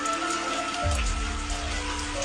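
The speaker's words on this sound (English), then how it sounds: "Okay, actively raining." Steady rain falling, a continuous dense patter with a low rumbling undertone, no voices.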